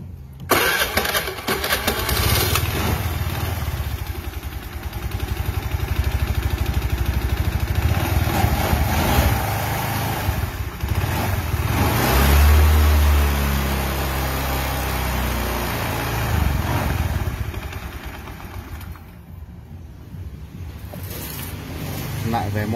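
A 2012 Honda Air Blade scooter engine with a replaced fuel pump cranks and runs, a loud close mid-pitched hum with revving swells under someone talking throughout.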